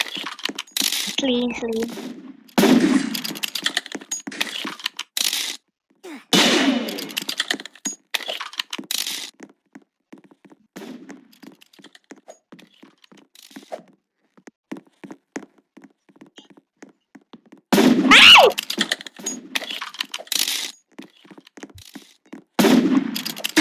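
Video game gunfire cracks out in short sharp bursts, some loud and close, others quick and faint, scattered with gaps between them while a player talks over parts of the action.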